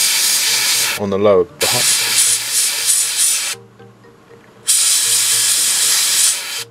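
Bursts of hissing airbrush spray lay XF24 paint onto a model, with loud stretches broken by silent pauses while a voice speaks briefly in between.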